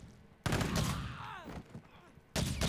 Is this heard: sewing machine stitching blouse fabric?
no